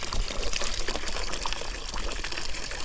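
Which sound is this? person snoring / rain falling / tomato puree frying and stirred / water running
water running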